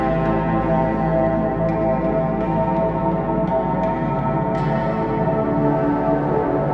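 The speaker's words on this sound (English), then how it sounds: "we're going to really kind of wash this out towards the end with beads reverb, which sounds something like this" A guitar washed out with lush Mutable Instruments Beads reverb forms a sustained, shimmering wash of ringing tones with soft plucked accents, steady and close throughout.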